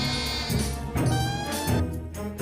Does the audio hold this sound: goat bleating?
yes